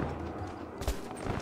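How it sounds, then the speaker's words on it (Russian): Gunfire in the video game Rise of the Tomb Raider during an attack on a village, a faint, distant burst of shots under a dense background of game ambience. "Слышна стрельба."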